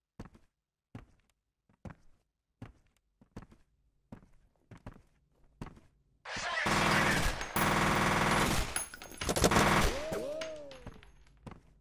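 Gunfire in the video game F.E.A.R.: a slow run of separate sharp shots and thuds, then a sudden loud, dense burst of sustained automatic fire lasting several seconds, up close and dominating.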